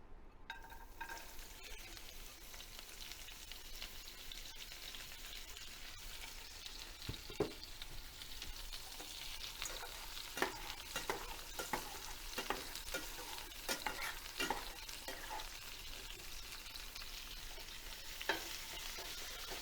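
Vegetables stir-frying in a hot pan with olive oil, a steady close sizzle throughout with occasional sharper crackles and scraping stirs, no talking.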